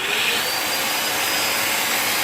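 A BISSELL Little Green Mini portable carpet cleaner runs after being switched on, giving a loud, steady motor whine and suction hiss up close.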